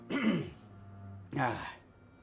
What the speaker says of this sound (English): Una momento while I clear my throat.